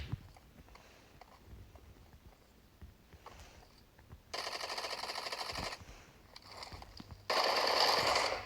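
Gunfire in PUBG Mobile: two sustained bursts of rapid automatic fire ring out loudly after quieter shuffling sounds, the second burst louder and running to the end.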